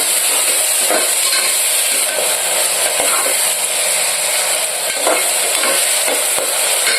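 Tomatoes frying with ginger-garlic paste in a pan for Rayalaseema-style mutton curry, a steady broad sizzle with occasional scraping stirs, close and continuous.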